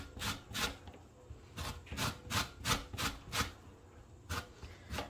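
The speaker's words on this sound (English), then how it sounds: "I am going to carefully get some zest off this orange" An orange being zested on a grater, a series of short rhythmic rasping strokes close by, about a dozen in a few seconds with brief pauses between groups.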